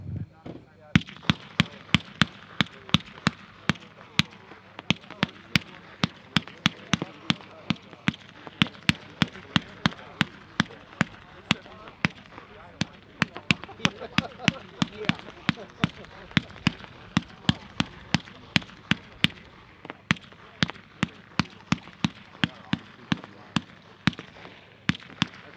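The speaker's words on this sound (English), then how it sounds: "Number 3 is a Photo Flash Cake by 76 Pro." A Photo Flash Cake consumer firework by 76 Pro, packed 2-to-1 with 20 shots, fires outdoors as a long run of sharp, loud bangs in fairly steady succession with brief quiet gaps between them.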